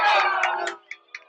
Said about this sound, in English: The play is called, and the people are booing.